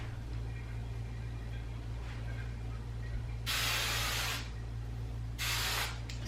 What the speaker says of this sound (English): Spray my whole head.